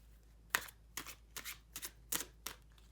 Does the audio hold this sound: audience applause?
no